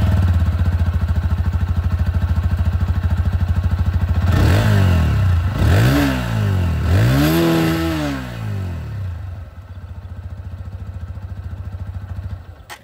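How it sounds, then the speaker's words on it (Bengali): A TVS Apache RTR 160 2V motorcycle, 2025 20th Anniversary Edition, idles loudly close by, then gives three rising throttle blips that fall back before it settles into a steady idle again. "চলুন তবে যে এক্সস্ট সাউন্ড সেটাও আপনাদেরকে একবার শুনিয়ে দিই।"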